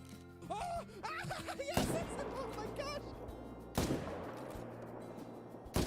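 Rifle shots fired at a moose in a hunting game, two loud, sharp reports spaced about two seconds apart, each trailing off into rumbling echo over faint background sound and a brief voice.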